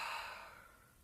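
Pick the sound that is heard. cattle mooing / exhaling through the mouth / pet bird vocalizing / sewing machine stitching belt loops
exhaling through the mouth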